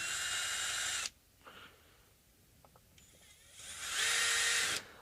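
A power screwdriver backs screws out of an Indonesian-made Fender Telecaster, with two loud, close, whining bursts about a second each, separated by quiet handling clicks and taps.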